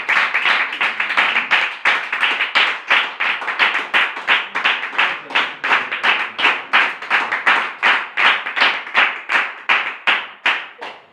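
Audience applause at a Hindi-language Bible study gathering, loud and close, with rhythmic synchronized clapping pulsing steadily at about two to three claps per second throughout, no voices heard.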